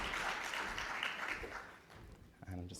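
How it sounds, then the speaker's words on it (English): Audience applause at a morning session of the STC 2024 conference: a dense, steady wash of clapping that slowly thins, with a voice starting up right at the end. "give yourselves a round of applause"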